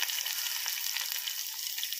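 Onions hit hot oil with seasoning spices for a Telugu-style amaranth and meal maker curry, giving a bright, continuous crackling sizzle held close and steady for the whole moment, without talking.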